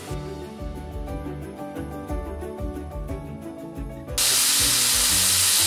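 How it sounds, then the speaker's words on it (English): Ground beef browning in hot oil in a pan: a steady backing of music gives way to a sudden loud, broad sizzling hiss that fills the last stretch. "got my oil in there, and I'm gonna start browning up my meat"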